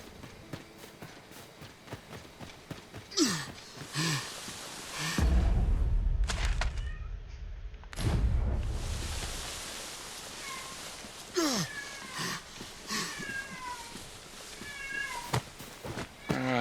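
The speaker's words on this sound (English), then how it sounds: "So I have to yell at a cat." Cat in Dragon's Dogma 2 meowing repeatedly in short rising calls, spread across a stretch that includes louder noise bursts and light footsteps.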